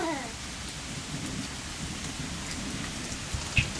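Steady rain hisses close by, with a faint low rumble of thunder and a brief clatter near the end.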